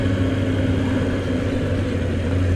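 A Triumph Speed Four motorcycle engine as the rider rolls on the throttle from around 3,000 revs, a loud, steady mid-pitched engine drone with a strong low hum, close up and with no talking.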